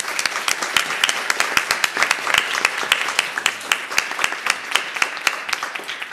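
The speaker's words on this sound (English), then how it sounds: "Let's give our panelists one more round of applause." A room full of people applauding steadily after a panel discussion, dense clapping with no pauses throughout.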